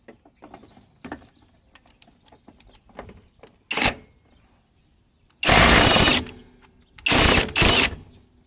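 Kobalt 24V right angle impact wrench loosening old 1995 shock absorber bolts, heard as several loud broadband bursts of rattling hammering with brief gaps between them, preceded by quieter clicks and tool handling noises.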